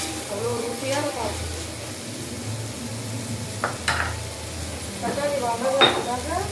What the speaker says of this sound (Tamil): தக்காளி வதங்கிறதுக்காக கொஞ்சமாக உப்பு சேர்த்து தக்காளி நல்லா கிளறி